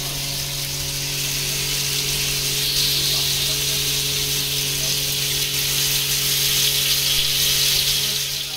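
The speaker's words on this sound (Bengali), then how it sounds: "স্টিক ছাড়া এমনি তেলের মধ্যে এটা হালকা করে ফ্রাই করে নেবেন" Chicken reshmi kebabs, taken off their skewers, fry in hot oil with a steady, loud, hissing sizzle that stays constant throughout. A low hum runs beneath it.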